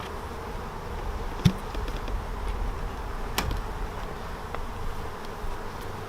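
A dense, steady drone of many honeybees buzzing up close in a hive, with a few faint clicks and knocks over the hum.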